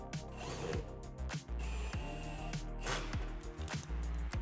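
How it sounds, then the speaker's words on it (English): Ratchet wrench turning bolts into a TV mount adapter, a run of quick close mechanical clicks in bursts with brief pauses, fairly quiet, no voices. "I have the two bolts and the ratchet back on here, the adapter. So I'm gonna go ahead and put these two bolts in"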